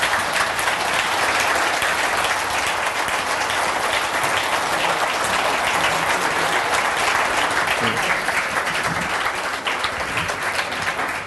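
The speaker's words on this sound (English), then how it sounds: "Can I get a big round of applause for all of these guys?" A conference audience at One More Thing 2011 gives a big, sustained round of applause for the speakers, dense clapping at an even level throughout.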